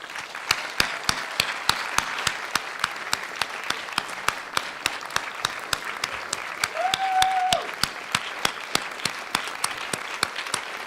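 An audience at the New-York Historical Society's 119th Annual Meeting applauds David Child with steady, even clapping throughout, plus a brief faint tone partway through.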